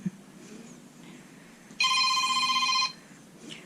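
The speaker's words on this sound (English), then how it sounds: "Let me turn off my phone." A mobile phone rings in a kitchen, a steady electronic ringtone sounding loud and close for about a second before stopping abruptly, with quiet room tone around it.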